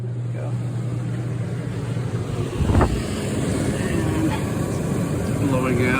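RV rooftop air conditioner running and blowing air, a steady broadband whoosh with a low hum that shifts partway, with a brief thump near the middle and no clear speech.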